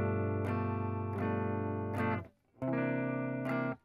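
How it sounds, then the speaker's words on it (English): Guitar strums a dominant 9 chord several times in a steady rhythm, each ringing hit clear and close with a lightly driven tone and a short gap midway. "But the 9 chord sounds like this."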